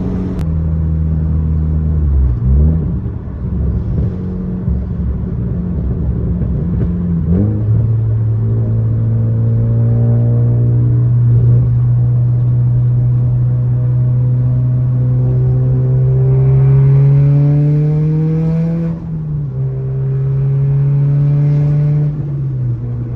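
A car engine rumbles steadily while being driven, its low drone rising in pitch as it accelerates and settling back, loud and continuous with no talk.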